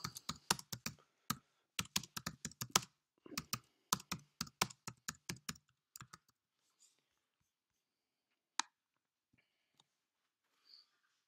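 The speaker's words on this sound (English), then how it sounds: "in this box here as well, they can also type in a message to go with it as well" Fingers type on a computer keyboard in a quick run of close, crisp keystrokes for several seconds, then fall mostly silent with only a few stray clicks.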